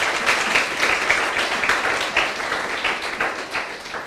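A church congregation applauds during a sermon, a dense, sustained round of clapping that fills the whole moment without pause.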